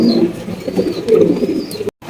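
A pair of round-bodied domestic pigeons coo close by in low, throaty, repeated phrases that run almost without pause for about two seconds, alone with no talk.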